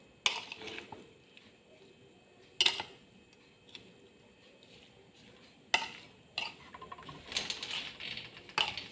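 A spatula stirs a shrimp stir-fry with green chili in a pan, giving a few sharp scraping clatters spaced seconds apart against a quiet background, then a busier run of close scrapes and clinks at the end.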